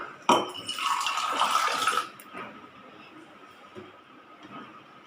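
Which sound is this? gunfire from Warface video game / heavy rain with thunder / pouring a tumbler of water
pouring a tumbler of water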